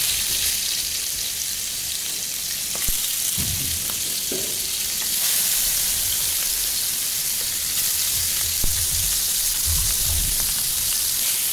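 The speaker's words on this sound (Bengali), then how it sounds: "মাছগুলোকে সুন্দর করে ভেজে নেব।" Fish pieces fry in hot oil in a kadhai, making a loud, continuous close-up sizzle with spitting crackles and an occasional soft thump or stir. No voices are heard.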